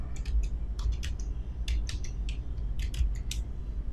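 Someone types on a computer keyboard, a quick run of close, crisp key clicks coming in uneven bursts over a low background hum.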